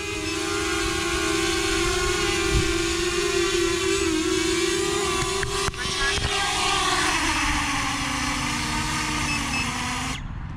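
An EXO Blackhawk Pro 3 drone hovers and lands nearby, its rotors giving a loud steady whine that bends slightly in pitch before cutting off abruptly at the end, with a voice talking underneath.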